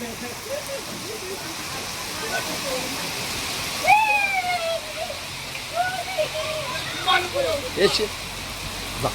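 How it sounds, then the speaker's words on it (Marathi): Steady heavy rain hisses throughout, a dense wash of noise, with people talking and calling out over it. "जोराचा पाऊस आलेला आहे."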